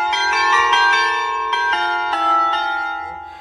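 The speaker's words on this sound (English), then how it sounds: "every time you press the doorbell, the chime will ring on the Alexa speaker" An Alexa smart speaker plays a wireless video doorbell chime, a loud, clear sequence of bell-like tones that strike repeatedly and ring out over a few seconds with no talking.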